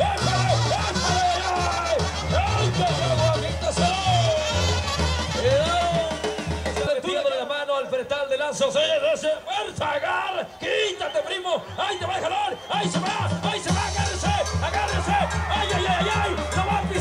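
A rodeo crowd at a bull-riding event cheers and shouts in a loud, continuous roar, mixed with whooping voices and a prominent shouting voice. The noise swells and dips but never stops.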